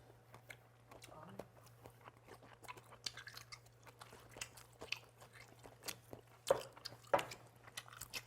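Chewing on boiled sea whelk meat dipped in sauce during a seafood meal: soft wet squishy bites and smacking, close and quiet, with a couple of louder chews near the end and a steady low hum beneath.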